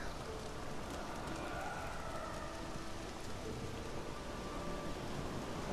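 Steady rain falls in The Witcher video game, a constant soft wash of hiss with no other sounds, quiet and even from start to finish.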